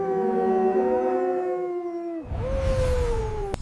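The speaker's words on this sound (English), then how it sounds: "Hear the wolf, he sings tonight." A long, wavering wolf howl rises and holds, then breaks and starts again on a lower, sliding note, clear and fairly loud.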